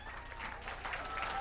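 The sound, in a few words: audience applause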